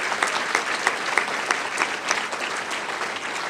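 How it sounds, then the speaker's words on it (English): An audience claps steadily in a hall at a Chicago Public Schools event, a dense, even burst of applause with no voices over it. "Let's give her a round of applause for her great work at Gillespie."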